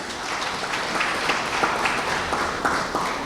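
An audience applauds at a Restaurant Week media launch, a steady roomful of clapping with a few sharper individual claps standing out, held at an even level throughout.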